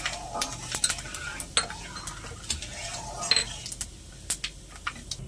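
Five-spice, ajwain and a dried chili tempering in hot oil for raw mango pickle, with a soft sizzle under repeated clinks and scrapes of a spoon stirring in a pan.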